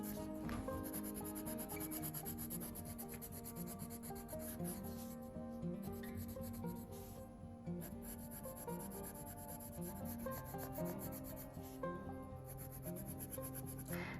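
Colored pencil is rubbed back and forth across paper, filling in a drawing of the Grinch with green, a close, quiet and continuous scratchy shading sound with brief pauses and no talking.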